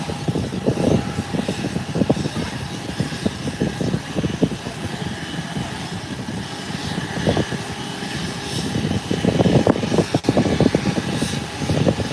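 JetBlue airliner at Howard Hamilton International Airport: a steady, loud jet engine roar with broadband rumble and wind-like hiss that holds throughout, swelling slightly toward the end.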